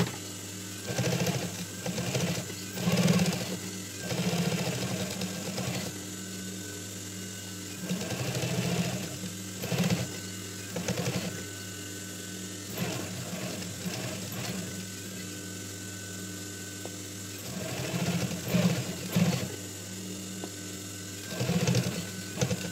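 A sewing machine stitches along the side of a hat in a workshop, running in short bursts of mechanical ticking and whirring that start and stop repeatedly, with steady machine hum in the background.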